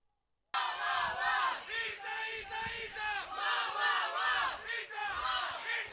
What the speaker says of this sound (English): So you can hear the crowd chanting for their team.